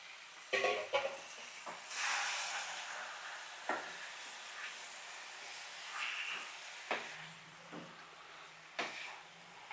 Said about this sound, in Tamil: சிக்கன் போட்டுட்டு நல்லா வதக்கணுங்க